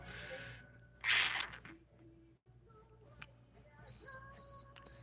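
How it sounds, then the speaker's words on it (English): A kitchen-style timer beeping in a room during a drawing session, a series of short, high, evenly spaced electronic tones after a brief burst of rustling noise, fairly clear and close with no talking. "That's my timer."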